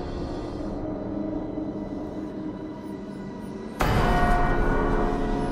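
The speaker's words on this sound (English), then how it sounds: "The rolling of the bell grew louder with each ring" Over a low continuous rumble, a heavy bronze church bell suddenly strikes, its deep ringing tone swelling loud and lingering.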